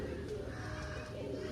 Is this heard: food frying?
no